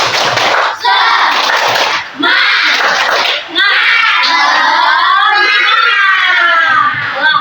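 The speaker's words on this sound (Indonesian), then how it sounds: "Tepuk semangat" Schoolchildren in a primary classroom perform a rhythmic group clapping ice-breaker, bursts of loud, close hand claps mixed with young voices chanting and shouting together.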